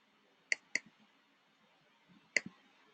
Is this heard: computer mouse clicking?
yes